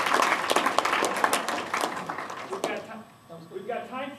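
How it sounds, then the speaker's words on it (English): An audience claps for two salespeople in a lively burst that fades after about three seconds, and a voice begins speaking as it dies away. "Let's have some applause for our first two salespeople."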